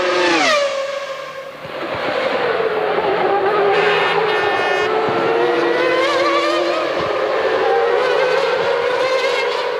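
Formula 1 cars, including a Williams-Renault, scream past at the 1996 German Grand Prix: a loud near pass with a sharp downward engine whine, then more high-revving engines howling continuously as the field streams by.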